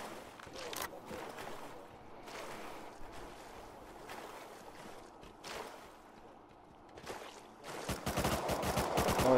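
Gunfire from an MP5 submachine gun in Rust Console Edition, with scattered bursts and a loud, dense rapid-fire run building at the end over water and boat ambience.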